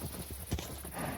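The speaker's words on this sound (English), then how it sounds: "My 3 skeleton horses." Skeleton horses in Minecraft, soft hoof clip-clops and a brief snort over faint background noise, heard alone for about a second.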